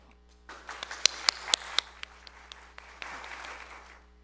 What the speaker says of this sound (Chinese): 我们鼓掌感谢他们。